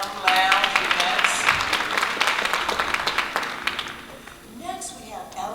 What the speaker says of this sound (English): please give a clap to the M Lounge Events